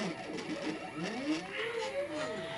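A home-made Solsylva CNC router runs a stress test, its stepper motors whining in sweeping, rising and falling tones with some loose-screw rattles, steady and close under a voice talking.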